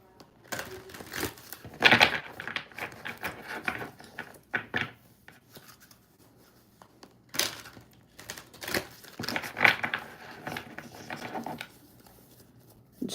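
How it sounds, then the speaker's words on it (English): A tarot card deck being shuffled, with irregular bursts of papery riffling and soft slaps of the cards, some louder clusters separated by quieter gaps, heard alone and close. "let's shuffle up this tarot deck."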